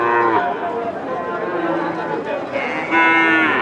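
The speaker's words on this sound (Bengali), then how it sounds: "এখানে একটি ক্রস ষাঁড় দেখা যাচ্ছে, মাঝারি সাইজের" A Friesian cross bull moos loudly and close by at a cattle market in Nilphamari, with long drawn-out lowing calls and a fresh call near the end over crowd chatter.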